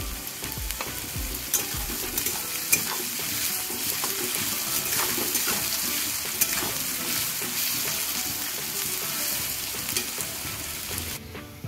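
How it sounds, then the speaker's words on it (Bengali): Sliced onions with a little salt fry in a pan for a Bengali rui fish korma, with a continuous close sizzle and occasional stirring scrapes throughout. "পেঁয়াজটা কিন্তু আমি খুব বেশি কড়া করেও ভাজিনি, আবার একদম সাদা সাদাও নেই, একটু মিডিয়াম ভাবে ভেজে নিয়েছি"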